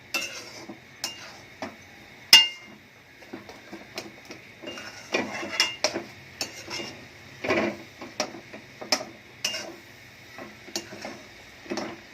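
Milk being stirred in a pot for a Satyanarayan prasad sweet, giving soft scraping and tapping strokes of a spoon against metal in an irregular rhythm, close and fairly quiet, with no voices.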